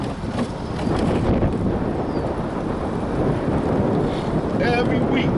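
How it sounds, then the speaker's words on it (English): A wind gust buffets an outdoor microphone, a loud, sustained roaring rush with low rumbling that holds steady for several seconds, no talk heard. "You get a gust of wind come up, man."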